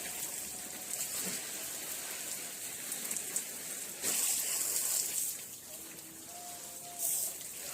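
A garden hose sprays water over potted plants in a home garden. The rush is steady and close, with louder surges where the stream hits foliage or the ground.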